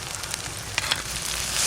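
Onion, ginger and garlic sizzle in a pan with spices for palak chicken, a close, steady hiss of frying oil broken by a few sharp clicks from stirring.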